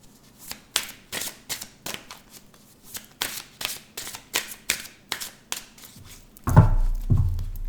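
Oracle cards are shuffled by hand in a steady run of crisp riffling bursts, roughly two per second, close and fairly quiet, ending with a louder handling thump.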